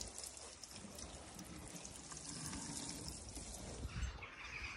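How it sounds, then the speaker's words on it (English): Potted geraniums being watered outdoors: a faint, continuous trickle and pour of water into soil, steady and quiet against light background noise. "Just giving these a water."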